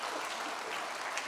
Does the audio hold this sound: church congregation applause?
yes